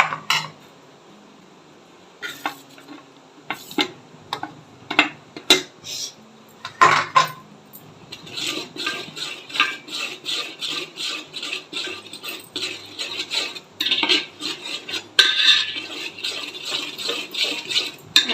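Metal spoon scraping and clinking against a pot while a jaggery syrup mixture for adhirasam is stirred, a steady run of close, bright rattles and taps with brief pauses, no talk.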